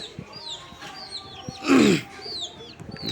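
Pigeons call in a rural village yard near a pigeon house, with one louder, close cooing burst in the middle and faint chirps and rustling around it.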